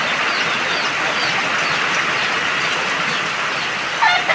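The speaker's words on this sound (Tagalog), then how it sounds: "lakas ng ulan" Steady, dense hiss of heavy rain pouring continuously, broadband and loud throughout, with a faint bird chirp near the end.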